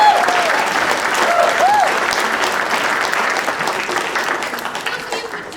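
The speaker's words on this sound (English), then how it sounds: "So give them a round of applause." An audience at a school performance of a Missoula Children's Theater production of Johnny Appleseed claps for the child performers, dense sustained applause filling the room with a few whoops rising above it, tapering slightly toward the end.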